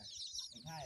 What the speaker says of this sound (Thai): ไก่เราก็แยกไว้อย่างนี้